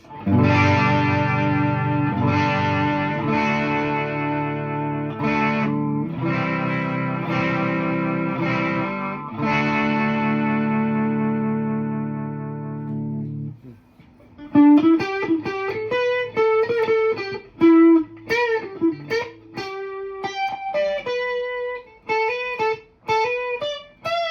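Electric guitar run through a Behringer UV300 Ultra Vibrato pedal into a Katana amp, first sustained strummed chords with a wavering vibrato, then a clean picked melodic line with pitch wobble, loud and alone.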